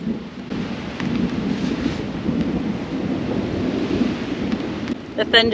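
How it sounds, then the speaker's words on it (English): Steady rain patters over a campsite during a thunderstorm, with a low rumble of thunder rolling beneath the continuous downpour and wind, ending with a brief voice near the close. "Well, the rain started. I don't know how hard it's going to get."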